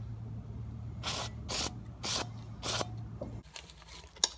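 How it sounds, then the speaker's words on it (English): Carbon cleaner sprays onto the oil strainer of a vintage 1600cc Volkswagen Beetle in four short, close bursts at an even rhythm over a low hum. A scuffing handling noise follows, and there is no talk. "now I'm just going to clean it off with some carbon cleaner"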